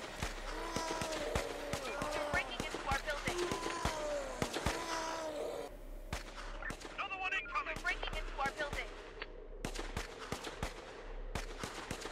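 Rapid bursts of video game gunfire crackle repeatedly in Infection Free Zone, with sharp shots in quick succession over a continuous game soundscape.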